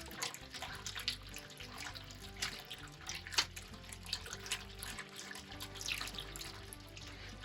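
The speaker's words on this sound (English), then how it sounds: "I'll rinse this out with a little bit of the wort." Wort poured into a container to rinse it out while homebrewing a Belgian double raspberry blonde on an Anvil Foundry system, a steady, faint splashing trickle of liquid with small irregular surges throughout.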